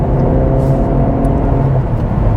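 Cadillac CT4 Blackwing engine pulling steadily on the road, heard as a smooth, continuous drone with a low rumble and faint whir throughout, no voices.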